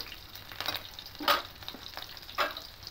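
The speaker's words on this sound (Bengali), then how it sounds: "দিয়ে একটু ভেজে নেব লঙ্কাটা, কিন্তু ফোড়নটা একটু ভাজা হলেই হবে।" Slit green chillies and whole spice tempering fry in hot oil, a steady light sizzle with a few sharper crackling bursts and spits, close and fairly quiet.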